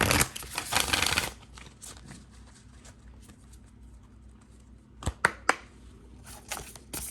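A burst of card shuffling at the start, then quiet, followed by a few sharp riffling snaps near the end, close and crisp.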